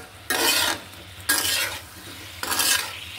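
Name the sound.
sautéing taro with spices in a pan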